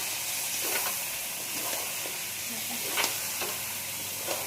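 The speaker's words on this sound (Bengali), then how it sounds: "এই মশলা দিয়ে দিয়েছি, এখন কষাবো" Chicken sautéing with spices in a hot pan, a steady sizzle and hiss with occasional scraping stirs, fairly close and constant, no voices.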